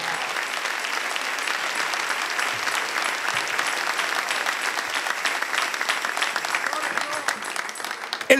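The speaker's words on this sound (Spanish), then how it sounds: "Denle un aplauso al Rey." A church congregation claps steadily in honour of the King during a Spanish-language service, dense applause filling the room for about eight seconds with scattered voices mixed in, swelling slightly at the end.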